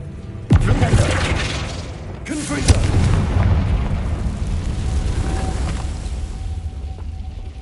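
A Bombardo blast spell goes off in Hogwarts Legacy on PS5, a sharp explosive boom near the start followed by a second heavy impact and rumbling game ambience with scattered effects.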